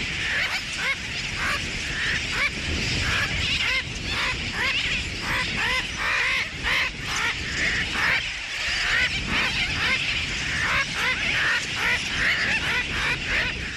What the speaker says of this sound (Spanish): Aquí hay más de un pájaro por metro cuadrado.